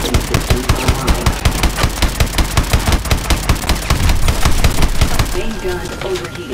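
A mech's main gun in Call of Duty Advanced Warfare fires rapid, evenly spaced heavy shots for about five seconds, loud and close, then stops as the firing winds down.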